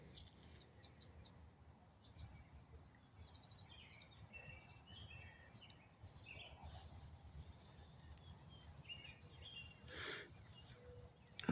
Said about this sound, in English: I got birds all over.